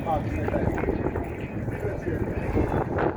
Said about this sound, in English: the weather app on my phone said the wind's blowing about 27 miles per hour